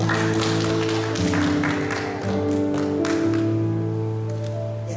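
Participants at an early childhood teachers' workshop in Rote Ndao clap for the speaker, a brief burst of applause beneath loud, sustained background music that carries through the whole stretch.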